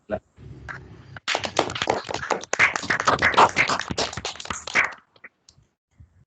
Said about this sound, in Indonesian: kita beri aplaus bareng-bareng untuk kelompok 14